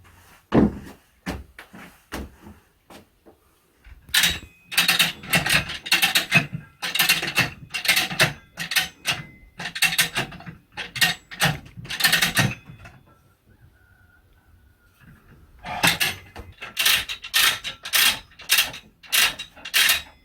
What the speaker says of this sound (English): let that 520 pounds of weight down on top of that piston and see what happens